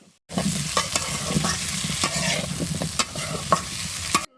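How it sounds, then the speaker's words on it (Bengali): Elephant foot yam fried with turmeric in a pan, stirred with a spatula: continuous close sizzling frying with repeated scraping stir strokes in an irregular rhythm, no talk. "দিয়ে দিলাম একটু সেনা হলুদ, এবার নেড়ি সাইডে একটু ভেজে নেবো।"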